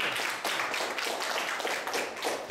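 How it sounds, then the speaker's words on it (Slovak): An audience claps steadily at an elementary school farewell, a dense, even wash of applause that holds for a couple of seconds without speech. "Môžeme mať zatleskať, nie?"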